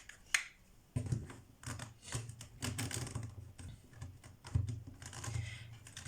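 Tarot cards are drawn from a deck and handled up close, giving quiet crisp flicks, snaps and papery rustling in an irregular stream of small clicks.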